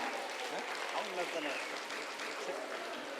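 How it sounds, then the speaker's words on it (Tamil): An audience at a students' meet claps for the winners, a steady, distant wash of applause with faint voices mixed in throughout. "நீங்களும் கைத்தட்டுங்க."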